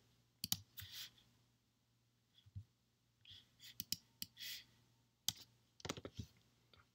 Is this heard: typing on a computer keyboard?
yes